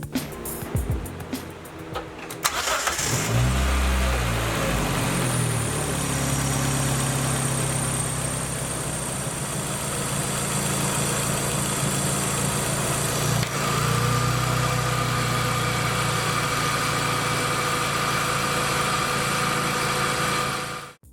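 After a brief clatter, a car engine starts and settles into a steady, loud idle with the engine cooling fans running, humming on evenly for the rest of the clip.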